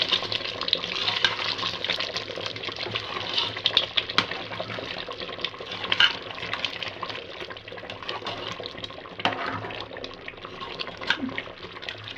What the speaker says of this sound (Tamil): குழம்பு நல்லா கொதிச்சு வந்துருக்கு